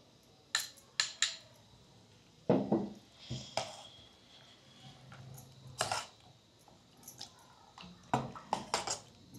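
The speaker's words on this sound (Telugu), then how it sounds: "వాటిని కూడా దీంట్లోనే వేసి మిక్స్ చేసుకుందాం" Fruit salad with sago and soaked chia seeds stirred in a bowl, heard as scattered sharp spoon clinks and soft scrapes in irregular bursts, fairly close and quiet, with no talking.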